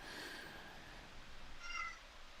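A faint, distant cat meows once or twice in a quiet room, the thin cries rising briefly over a low background hiss.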